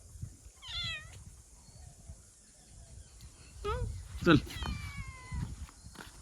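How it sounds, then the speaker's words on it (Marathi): A pet cat at home in a Konkan village meows several times, short rising and falling cries spaced across the moment, fairly close, while a person calls it and speaks softly. "आमची मांजर ये इकडे इकडे"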